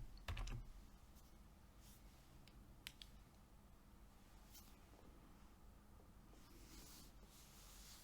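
Quiet, distant clatter of keys on a computer keyboard while code is written, sparse scattered taps and short runs over a low steady room hum.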